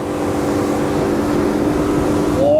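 A Saxdor 270 motorboat runs at full revs, its engine a loud, steady drone held close and constant throughout, with water rush underneath and a rising whine near the end.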